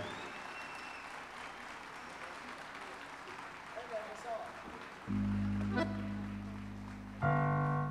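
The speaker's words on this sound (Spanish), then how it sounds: "¡Fuerte el aplauso!" Audience applause at a public university festival, a broad wash of clapping running steadily for several seconds before musical tones from an ensemble enter over it in the second half.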